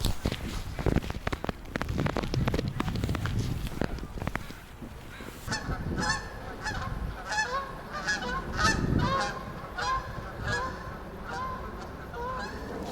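Geese honk repeatedly at moderate distance outdoors, a run of harsh calls rising after a stretch of wind and footsteps.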